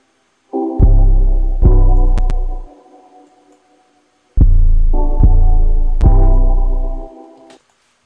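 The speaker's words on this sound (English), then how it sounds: "I added the 808, but the 808 that I used was very simple. It was just three notes here." Deep 808 bass plays a simple three-note pattern with a melodic sample over it: two loud, booming phrases, each a few sustained low notes, separated by a short quiet gap.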